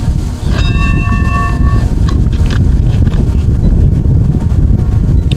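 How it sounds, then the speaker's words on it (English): Strong wind buffets the microphone in a loud, rumbling roar at Siesta Bay during radio-controlled sailing, with a brief ringing metallic tone early on and gusts that stay heavy throughout. "Wow, it's getting gusty."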